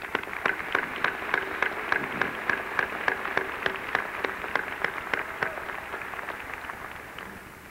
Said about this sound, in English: I'd invite everyone to join me in showing our appreciation with a round of applause